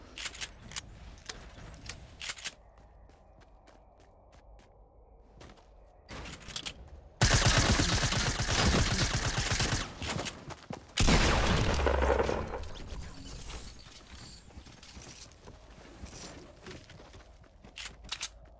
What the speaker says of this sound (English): the accuracy of the suppressed SMG is actually nice there